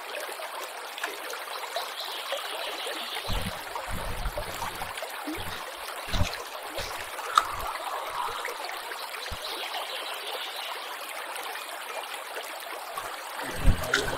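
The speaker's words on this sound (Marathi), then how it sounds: "पाण्याचा आवाज आपण बघता येईल आपल्याला" A mountain stream trickles steadily over mossy ground in an open flat clearing reached after a long walk, with continuous close-up babbling and a few low thumps and knocks along the way.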